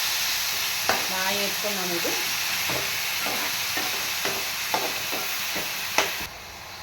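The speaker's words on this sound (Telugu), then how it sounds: "ఇది ఉల్లిపాయ ఇలా వేగుతున్నప్పుడు ఇది కల్లుప్పు వేస్తున్నాను నేను." Onion masala paste with fenugreek seeds frying in a pan for a fish curry, a steady close sizzle with scraping stirs, under intermittent speech.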